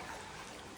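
Floodwater rushes strongly through a town street, producing a constant broadband wash of flowing water heard close and steady for under a second, with no speech.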